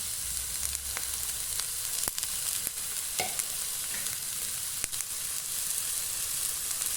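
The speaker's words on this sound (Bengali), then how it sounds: "তেলটা আমার গরম হয়ে গিয়েছে। তো এখানে আমি দিয়ে দিব পেঁয়াজ কুচিটা, দিয়ে দিব আমি রসুন কুচিটা" Chopped onion and garlic frying in hot oil make a continuous bright sizzle with occasional sharp pops and crackles, close up and steady, with no voices.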